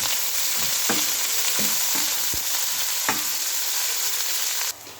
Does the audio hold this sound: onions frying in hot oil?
yes